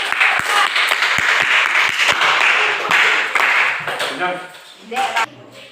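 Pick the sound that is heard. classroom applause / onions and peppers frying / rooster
classroom applause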